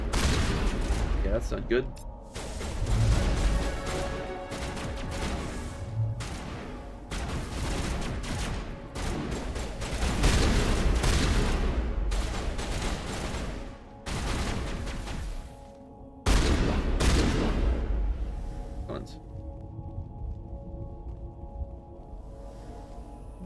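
Repeated shotgun blasts from the video game Mass Effect 1 at a dig site, booming in bursts over several seconds amid other combat noise, with someone briefly talking.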